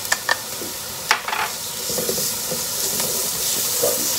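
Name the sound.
garlic sizzling with onions in a pan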